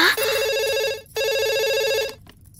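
A telephone rings in a Telugu comedy movie scene, two long electronic trilling bursts separated by a brief gap, loud and close, with the second ring cut off abruptly.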